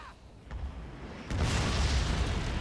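Shrapnel explosions bursting over an artillery battery in Fall of the Samurai, a low rumbling boom that suddenly swells into a loud, sustained roar of blasts.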